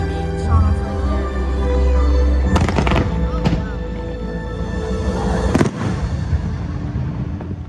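Fireworks burst at Epcot, a few loud booms and crackling pops going off close by, with a steady rumble and crowd noise between them.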